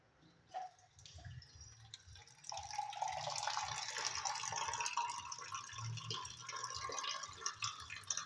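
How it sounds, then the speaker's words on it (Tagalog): Drinking water running from a tap, starting with a few faint drips and handling sounds and then settling into a steady, soft stream pouring into a container. "Ngayon, kukuha ako ng tubig"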